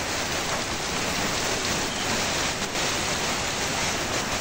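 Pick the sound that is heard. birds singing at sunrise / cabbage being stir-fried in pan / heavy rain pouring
heavy rain pouring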